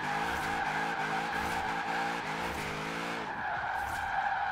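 A car in Forza Horizon 4 drifting through a section on the handbrake alone, a loud sustained tire squeal over a droning engine, rising and falling in pulses before easing off.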